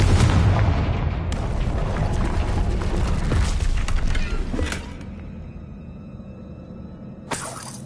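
A Confringo fire spell blasts off in the Hogwarts Legacy game, a loud booming roar with crackling debris that holds for about five seconds, then fades into a quieter rumble before a short sharp burst near the end.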